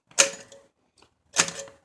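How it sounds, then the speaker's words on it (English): An Adler No. 7 German typewriter with glass keys gives two short bursts of mechanical strikes about a second apart, close and fairly loud, with no voices. "It's the only German typewriter I've got, and it's got glass keys on it."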